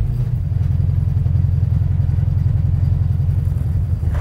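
Chevrolet Nova with newly installed gears reversing to break them in, a steady low engine rumble and drivetrain drone held at an even level throughout, close by.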